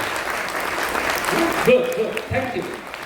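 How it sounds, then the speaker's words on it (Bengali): An audience claps through a business meeting in a hall, steady broadband applause that thins out near the end as a voice begins speaking over it. "একটা হাততালি দিন জন্য, সবাই হাততালি।"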